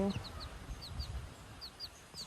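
A newly hatched chick peeping, about eight short high chirps scattered across the moment, faint and close over a soft low rumble of handling and background noise.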